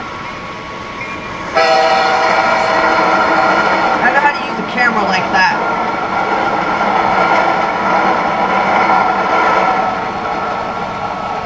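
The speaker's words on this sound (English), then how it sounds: "I know how to operate these trains in the game." A freight train in the video game Rails Unlimited rumbles steadily with a sustained horn-like tone and some clanking midway, while someone talks over it.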